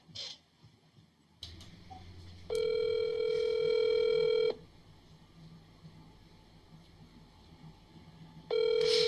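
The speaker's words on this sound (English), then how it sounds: "So I'll put him on speakerphone and put him up to the mic." A phone call rings out over speakerphone in two long, loud electronic ring bursts separated by a quieter pause, with a third ring starting at the end, close and alone.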